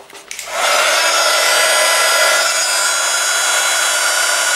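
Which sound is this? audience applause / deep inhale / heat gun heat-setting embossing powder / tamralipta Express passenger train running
heat gun heat-setting embossing powder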